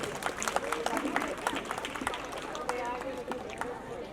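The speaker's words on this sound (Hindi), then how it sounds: "उनका जोरदार तालियों से स्वागत किया जाए" An audience claps to welcome a guest at a Women's Day awards event in Mira Road, a dense, steady patter of many hands with a voice speaking over it throughout.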